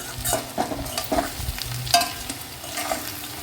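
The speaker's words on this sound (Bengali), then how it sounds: "এই দেখো পেঁয়াজ রসুনটা একদম পারফেক্ট ভাজা হয়ে গেছে" Onion and garlic fry in a pan with red amaranth stalks while being stirred: a continuous close sizzle broken by repeated scraping strokes of the spatula, with no speech.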